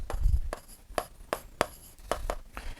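Pencil writing on paper during a class 6 geometry lesson, a quick series of short scratchy strokes and taps, close and fairly crisp, with no talk.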